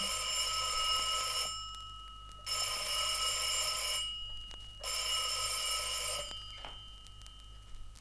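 An old-style telephone bell rings in an audio drama, three long rings with pauses between them, loud and clear with no voices over it.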